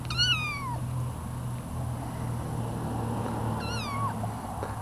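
A kitten meows twice, close and clear, with a pause of about three seconds between the calls, over a low steady background hum.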